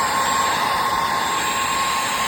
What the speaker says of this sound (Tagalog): Blower natin ito para matanggal yung dikit.